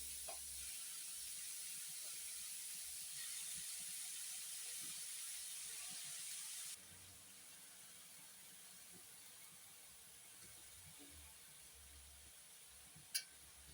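Red amaranth greens sautéing with onion and green chili in a pan, a faint, steady sizzle and hiss that drops slightly partway through, with a sharp clink near the end.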